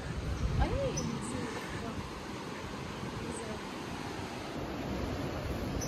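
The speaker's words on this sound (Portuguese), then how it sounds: "E o barulho das ondas, hein?" Steady broadband wash of surf rolling onto a beach at Joá, Rio de Janeiro, with a brief voice near the start and wind-like hiss throughout.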